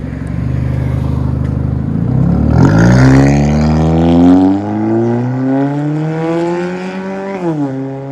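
Straight-piped exhaust on a 2013 Kia Forte driving down a mountain road, a loud raspy drone that climbs in pitch through the gears with a brief drop and shift near the end.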